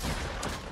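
Gunfire from a gun in Roblox Da Hood, a dense, loud, distorted burst of rapid shots filling the whole moment.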